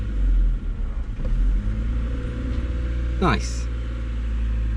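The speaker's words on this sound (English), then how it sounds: "now the next thing is to start the car and see if we can, you know, move around." A Honda Civic EK3 with a freshly replaced clutch master and slave cylinder idles and pulls away, its engine rumbling steadily near and loud, with a brief rising rev partway through and a person speaking briefly over it.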